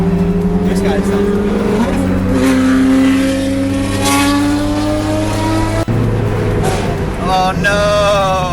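A race car engine revs loudly and holds a high, steady drone that rises in pitch, then drops sharply and climbs again, with excited voices talking over it.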